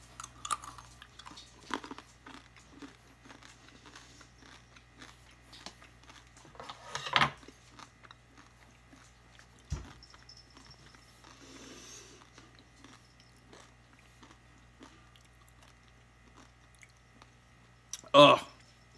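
Someone chews big Neapolitan M&M's candies with strawberry, chocolate and vanilla in each, making soft, close, intermittent crunches and mouth sounds, with a couple of louder bumps and faint vocal noises.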